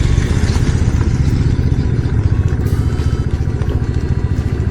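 A heavily loaded motorcycle rumbles along a rough dirt road between Nubra and Pangong in Ladakh. Its engine drones steadily and loudly up close, with a constant rattling clatter from the bumpy ground.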